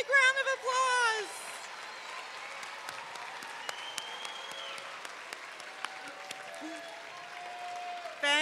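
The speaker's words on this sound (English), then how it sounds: "Give yourselves a big round of applause." A voice speaks briefly at the start, then faint, scattered applause follows from the audience at a school Battle of the Books event in 2020.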